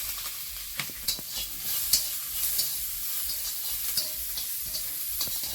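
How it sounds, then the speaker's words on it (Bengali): Nigella seeds, garlic and chopped onion sizzle steadily in hot oil in a pan, with a dense, continuous frying hiss broken by scattered clicks and scrapes as the mixture is stirred. "তেলের মধ্যে একটু কালো জিরে একটু রসুন পেঁয়াজ কুচি"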